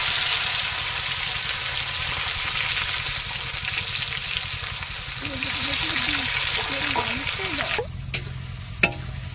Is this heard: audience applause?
no